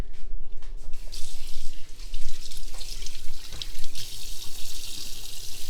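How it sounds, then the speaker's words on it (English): Tap water runs steadily into a sink for hand washing in a home kitchen while an omelet is being made, with a continuous close hiss and splash that holds for several seconds, briefly dipping near the two-second mark. "I need to wash my hands now again."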